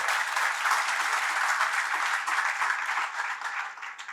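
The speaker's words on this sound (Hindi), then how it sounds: "अरे दूसरों के स्वागत में तो हमेशा तालियां बजाते हो, कभी अपने भाग्य में भी बजा लो।" Steady, dense applause from an audience, sustained throughout and tapering slightly at the end.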